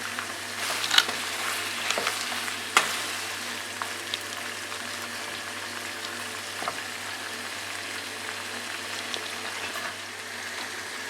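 Steady low sizzling of lamb meat frying in a pan for karahi gosht, with a few brief clinks and stirring sounds early on, no voices.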